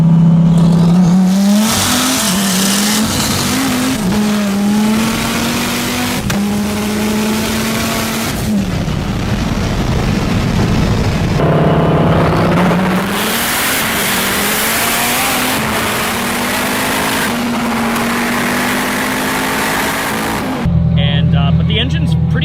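A 3100-horsepower twin-turbo Dodge Viper screams at high speed, its engine note climbing repeatedly through the gears with sharp shifts between long rising wails, loud and close throughout.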